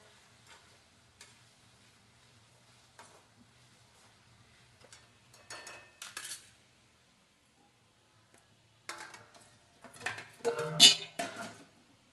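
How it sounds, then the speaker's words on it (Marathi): Mixed vegetables with mint and coriander for a hotel-style veg biryani are stirred in a pan, giving soft sizzles and scraping and clinking of a utensil in short bursts that grow louder toward the end. "सर्व भाज्या परतून घ्यायच्या"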